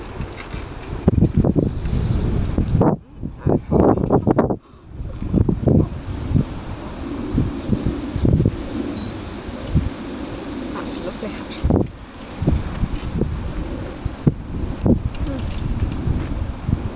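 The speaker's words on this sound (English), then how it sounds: "wind is blowing my hair" Wind blows outdoors at an open-air campfire cooking spot, a loud, continuous rushing buffet against the microphone with gusts and brief dips, as a person talks over it.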